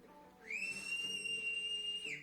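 A loud, sustained blast from a site manager's whistle, a single steady piercing tone holding for about a second and a half before cutting off.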